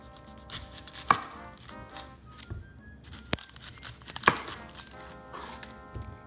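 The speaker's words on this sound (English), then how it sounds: "Let's start off with trimming the ends off." A knife trims the ends off an onion on a chopping board: a handful of sharp, close cutting thuds and crisp taps, spaced irregularly against quiet kitchen background.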